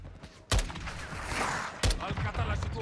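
Two sharp gunshots crack out about a second apart in the Call of Duty: Modern Warfare II campaign, with a muffled, busy background of game noise between them.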